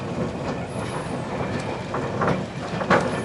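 A train on the Dartmoor Railway at Meldon Viaduct Station in South Devon rumbles past nearby with faint rhythmic wheel clatter and a brief high squeal over a steady mid-level roar.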